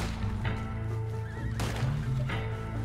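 A horse in Red Dead Online neighs and whinnies repeatedly over a dense, continuous background of game sound, the calls rising and falling in quick succession.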